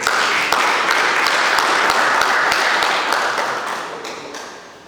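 A workshop audience claps for the participants, a dense patter of hands with a few sharper individual claps. The applause holds steady and then tapers off near the end.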